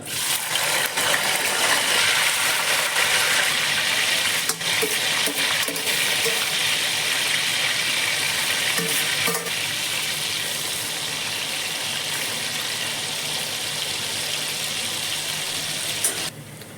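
Eggplant pieces fry in hot oil with a constant loud sizzling hiss, steady throughout with faint clinks of a utensil now and then.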